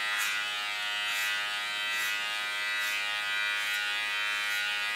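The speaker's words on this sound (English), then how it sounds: "And my comb is guiding the clipper." An electric hair clipper, guided by a comb, cuts hair close by with a steady high-pitched buzz that rises in brief swells about once a second as it passes through the hair, with no talking.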